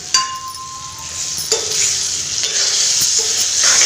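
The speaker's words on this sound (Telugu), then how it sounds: "అవో పేలుతున్నాయి టపటపామని" Green chillies frying in a pan for ginger chutney, a steady hiss with sharp crackles and pops, plus a few clinks of a stirring utensil against the pan, close and fairly loud with no talking.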